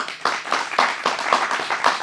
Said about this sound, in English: They clap.